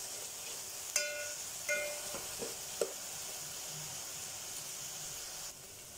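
Onions with ginger-garlic paste sauté in a pan for Tamil egg curry, giving a faint, steady frying hiss with a few soft clicks and stirring taps.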